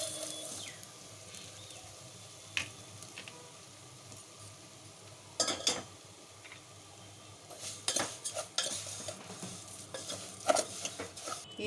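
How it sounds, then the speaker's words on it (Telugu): Semiya vermicelli fries in ghee in a pan with a soft, steady sizzle, broken by sharp, close clinks and scrapes of a metal spoon stirring against the pan. "సేమియా వేయించుకుంటున్నాను"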